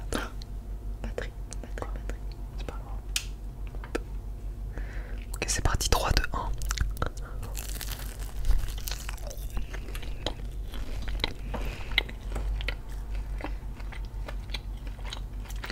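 Close-miked ASMR eating of hot KFC crispy melted-cheese croquettes: soft whispering with intermittent crisp bites and crunchy chewing, a louder burst of crunching midway, and a couple of sharp mouth sounds later.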